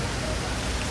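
Rain in the Bus Simulator 18 video game: a brief, dense, even hiss of falling rain with no clear gaps.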